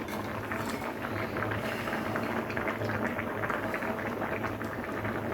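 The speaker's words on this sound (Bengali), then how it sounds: "প্রায় পাঁচ মিনিটের মতো আমি ডালটাকে সিদ্ধ করে নিলাম যেহেতু কাঁচা মুগ ডাল" Raw moong dal simmers in a pot with a steady bubbling hiss, even and close, and no voices over it.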